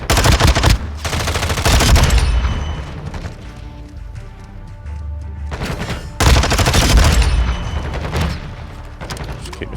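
Automatic weapon fire from Call of Duty: Modern Warfare 2 comes in two loud, dense bursts of rapid shots, with quieter game sounds between them and a few heavier booms.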